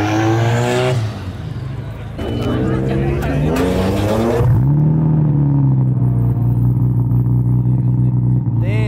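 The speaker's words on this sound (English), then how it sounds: "that's a fast Evo." A Mitsubishi Evo engine revs hard and loud, its pitch climbing and falling in surges with a brief dip and a deep rumbling swell, voices faintly present underneath.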